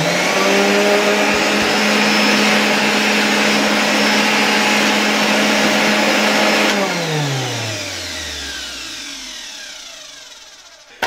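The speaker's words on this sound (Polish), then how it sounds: "Włączmy odkurzacz." A 1984 Zelmer 200 vacuum cleaner runs loud and steady with a strong whining motor hum, then winds down in a long falling pitch as it is switched off, with a small click at the very end.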